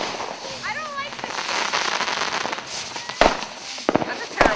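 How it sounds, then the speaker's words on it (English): Several sharp firework bangs burst out near the end, following a stretch of crackling noise, with a brief whistling squeal and faint voices earlier. "That's a terrible firework."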